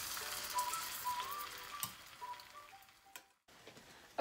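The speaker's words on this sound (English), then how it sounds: "make sure that when you put your turon, you can hear that sizzle" Turon, a Filipino banana-roll dessert, sizzles and crackles as it fries in hot oil in a pan, a steady close hiss with small pops that fades briefly near the end.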